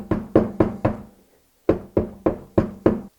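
Banging on a reusable oil-less aftermarket air filter to knock loose the bigger debris: nine sharp, hollow knocks in two rhythmic bursts, four then five, with a short pause between them, close and loud with no voices.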